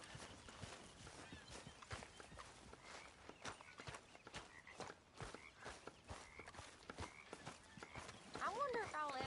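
Horse hooves clip-clopping at a walk in the game Red Dead Redemption 2, a steady uneven patter of footsteps with speech over it and a louder burst near the end.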